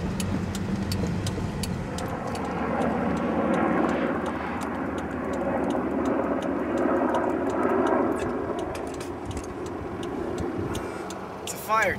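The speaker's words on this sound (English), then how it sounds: "Fire chopper." Firefighting helicopter flying over Montana terrain, a steady droning rotor and engine rumble that swells and eases, with a voice talking over it.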